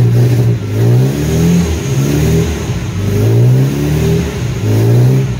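Engine of a 1975 Chevy LUV pickup running after years of sitting, revving up and down in repeated loud, close surges with a rough mid-pitched drone and no talking.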